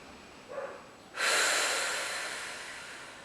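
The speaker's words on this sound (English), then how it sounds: "Deep breathing." Deep breathing during a Pilates core exercise: a short soft intake, then a long, forceful exhale that swells suddenly and slowly fades, heard close up with no talking.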